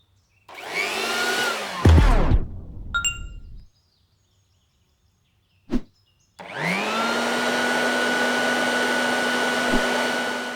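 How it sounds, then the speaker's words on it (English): Electric fans whir loudly and steadily, simulating strong wind: one spins up with a rising pitch and stops with a clunk, a light clink and a tap follow in the silence, then another fan ramps up into a sustained, tonal rushing drone. "I simulated various wind conditions using different fans"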